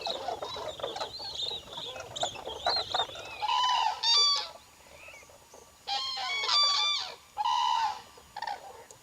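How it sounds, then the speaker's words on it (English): A flock of swamp-forest birds calling close by: brown-plumaged juveniles give squeals and the adults give clanging calls, in repeated bursts of several overlapping calls separated by short pauses, with no talk. "their typical squeal, which is quite unlike their parents' characteristic clanging"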